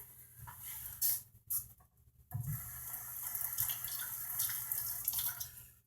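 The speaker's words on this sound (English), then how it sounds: "So I'm going to put water on it." Water trickles and splashes in short bursts, then runs in a steady stream onto a knife-sharpening water stone close by.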